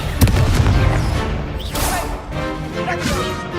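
A fire spell called Incendio is cast in Hogwarts Legacy, giving a dense roaring burst of flame. It is loud and sustained, with crackling bursts layered over the constant rush of game combat.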